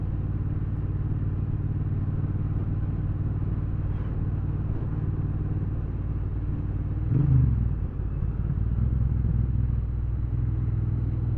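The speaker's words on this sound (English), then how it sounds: "British Custom Sleeper Pro pipes, they transform the sound of this." A 2022 Triumph Bobber motorcycle fitted with British Custom Sleeper Pro pipes drones at a steady cruise, a continuous low rumble with a brief swell partway through.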